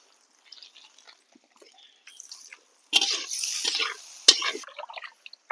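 Water running and splashing as meat is washed by hand in a farm kitchen, with quiet trickles and drips building into a louder gush of water partway through.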